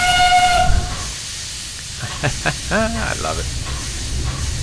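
Steam locomotive departing in the railway game Mystery Railroad, opening with a sustained whistle, then bursts of hissing steam and puffing as it pulls away, with someone speaking briefly over it.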